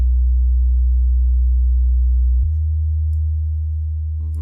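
A sustained bass tone with audible upper harmonics drones steadily on its own, dropping slightly in pitch midway and continuing at an even level.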